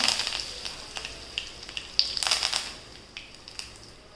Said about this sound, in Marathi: तेल आपलं गरम झाले मोहरी हिंग कढीपत्ता